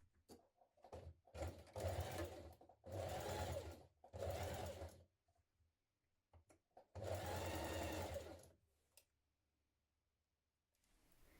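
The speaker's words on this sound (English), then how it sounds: "So pin it all the way around, and we're now going to stitch that in place." Sewing machine stitching a pinned t-shirt neckline, in several close bursts of steady whirring separated by short pauses, with no talking.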